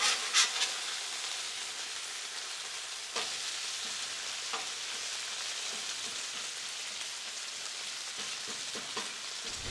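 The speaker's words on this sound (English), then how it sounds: "we're gonna flip our bacon, we're gonna flip our sausage" Bacon and sausage frying on a Blackstone griddle, a steady even crackling sizzle like light rain, with occasional soft spatula taps, moderately quiet and close, no talking.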